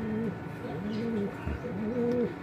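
A racing pigeon coos in repeated soft, rolling calls, close and clear, with no voices over them.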